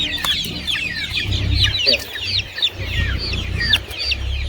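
Month-old country chickens cluck and cheep in a busy, close flock, overlapping chirps repeating throughout over a low background hum.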